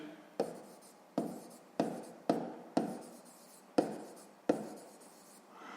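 A pen scratches on paper while working a sixth-grade maths exercise in seven short, evenly spaced strokes, each starting sharply and trailing off, close and clear with no talking.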